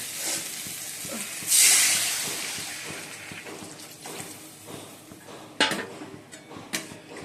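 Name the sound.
water poured into hot pan of fried potatoes, hissing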